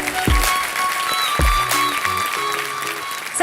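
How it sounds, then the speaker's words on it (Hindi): Studio audience on the Kaun Banega Crorepati 14 stage clapping for a pair of dancers, a dense sustained wash of applause with a couple of deep thumps and background music underneath. "क्या आप ताली बजाएंगे नहीं इनके लिए?"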